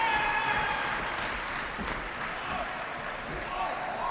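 Wrestling crowd at a live pro-wrestling show cheers and applauds in a loud, continuous wash of clapping and shouting, with a commentator's voice blending in beneath.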